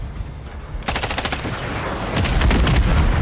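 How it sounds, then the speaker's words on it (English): A VTOL aircraft's gunfire in Call of Duty sounds as loud, rapid automatic bursts that swell into a dense, continuous roar of shots. "My own VTOL just killed me?"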